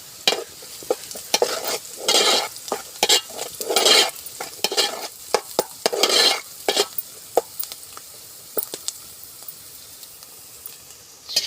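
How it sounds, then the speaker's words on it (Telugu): A frying fish curry with turmeric gets stirred firmly in a pan: repeated bursts of scraping and clattering utensil strokes over a continuous sizzle, close and loud, with no one talking. "అది ఇప్పుడు కలపాలండి బాగా."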